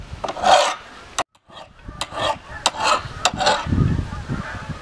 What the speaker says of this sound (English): Got my big bastard file, very rough.